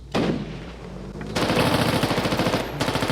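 Rapid, rhythmic bursts from a light machine gun in Squad, new PMC faction, a short volley, then a longer sustained burst of loud shots.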